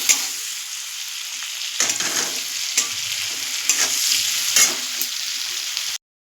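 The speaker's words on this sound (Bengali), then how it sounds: "নুন দিয়ে পেঁয়াজগুলো একটু ভাজা ভাজা করে নেব" Onions with salt sizzle steadily in hot oil, with a few louder crackles and stirring scrapes breaking through the constant hiss.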